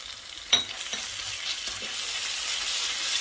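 Onion and mashed garlic sauté in a pan for a shrimp tagine. A constant bright hiss builds slowly, opened by one clank of a utensil and followed by a few soft stirring taps.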